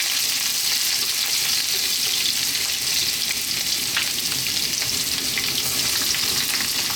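Ginger fries over maximum heat in hot sunflower oil, producing a loud, unbroken hissing sizzle that stays even and close for the whole stretch, with no speech.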